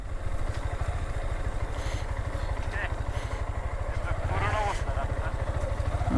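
A motorcycle engine thrums with a fast, pulsing low rumble as it rides along a forest road at night in Gazipur, while people talk over the steady engine noise.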